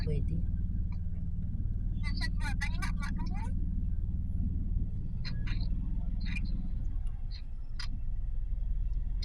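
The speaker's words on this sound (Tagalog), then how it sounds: "Grabe ang traffic ko." Road traffic rumbles steadily through Hawally, Kuwait, a low continuous drone of passing cars heard from inside a vehicle, with a voice speaking and brief clicking sounds over it.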